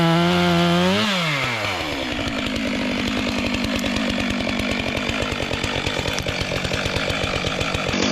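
A STIHL MS 462C chainsaw cutting firewood, loud and close: the engine revs up with a sweeping pitch, then settles into a steady high-speed bite through the wood for several seconds without pause.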